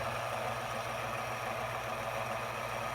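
A Niche coffee grinder runs on a bar, giving a steady, continuous low rumble with a broad whooshing hum that holds even and fairly close for the whole stretch.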